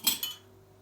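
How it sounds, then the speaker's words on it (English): A spoon stirs coffee in a glass plunger, giving two quick bright clinks against the glass before the sound settles into a quiet low hum. "Just going to take a spoon, just give it a quick stir to make sure that we've got no"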